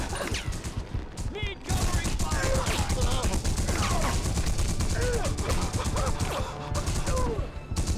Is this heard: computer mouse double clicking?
no